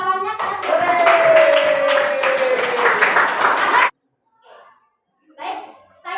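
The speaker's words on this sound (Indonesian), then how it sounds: "kasih aplaus kawannya" Classmates in a school classroom clap together in a loud, steady burst of applause lasting several seconds, stopping abruptly before a few faint voices.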